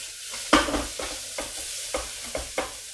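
Onions browning in a pan for majadra, a soft frying sizzle broken by about five distinct stirring scrapes of a utensil, close and fairly loud with no speech.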